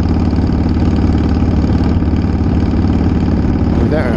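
A Harley Davidson Shovelhead motorcycle engine running steadily on a ride, a loud, continuous low rumble with a throbbing pulse that holds for the whole stretch, with no voices.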